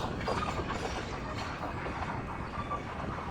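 A meter gauge passenger train runs between Chalala and Junagadh, heard from inside as a steady, moderately loud rumble with faint rhythmic clatter of wheels on rails.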